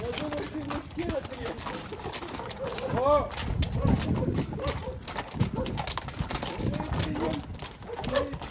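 Horses, a stallion and a mare, stamp and clop about while people talk over them, with pigeons cooing intermittently nearby.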